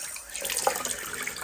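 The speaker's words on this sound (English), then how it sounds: "And there's our dripping tap." Water running from a dripping tap into a sink, a faint continuous trickle with a small splash near the middle, heard close and alone.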